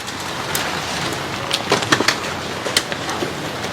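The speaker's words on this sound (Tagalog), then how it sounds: "Inabot tayo ng ulan." Rain falls steadily as a broad, even hiss outdoors, with scattered louder drips and patters spattering close by; no voices are heard.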